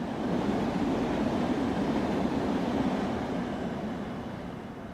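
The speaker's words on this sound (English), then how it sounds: "cab buzz is unbearable. That's my nails on the chalkboard for Train Sim World" Steady loud drone inside a locomotive cab in the Train Sim World game, on the LIRR commuter route, with a constant low buzzing hum and rolling rail rumble that fades slightly near the end, no talking.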